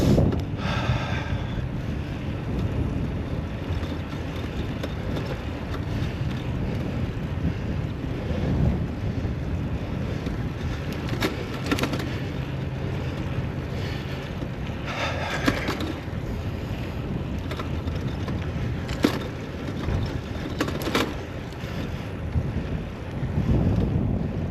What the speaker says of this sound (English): That dude is sailing.